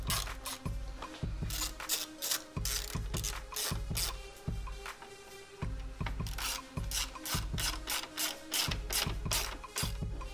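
A hand ratchet tightens the grille fasteners on a 2018–2020 Ford F-150 during a Raptor-style grille install, giving loud, close clicking pawl bursts in quick repeated runs with brief pauses between them.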